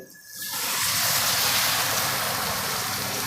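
After a brief quiet moment, water hits a hot cooking pan of raw potatoes and sets off a loud, sustained hissing sizzle that continues to the end.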